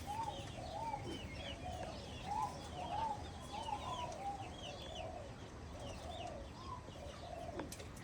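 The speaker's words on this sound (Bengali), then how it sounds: "ওনার স্পেশাল কবুতর আর কি।" Pigeons in a loft coo in a steady series of rolling, repeated calls over a constant low background hum, moderately close and with no voices.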